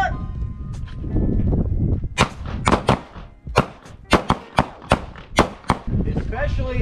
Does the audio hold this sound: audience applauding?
no